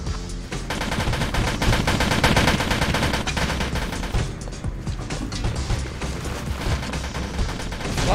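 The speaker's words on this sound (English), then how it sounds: "I'm gonna go ahead and just grenade it." Dense, loud gunfire and explosive blasts from a Roblox Polybattle battle as a grenade is thrown at a nearby enemy tank, continuous rapid shots and crashes filling the whole stretch with no pause.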